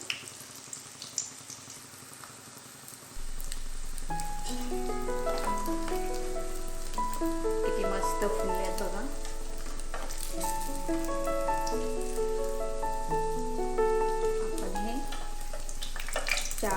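Savoury snack fritters fry in oil over a low flame, giving a steady, close crackling sizzle that runs under background music after a quieter opening few seconds.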